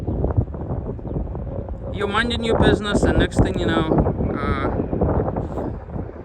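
Strong desert wind buffets and roars around an RV in Utah, a constant rumbling gusty noise on the microphone beneath someone talking.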